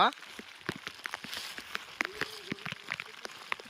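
Rain patters and drips steadily on a surface on the road to Shivdav waterfall, with scattered sharper drops and faint background noise.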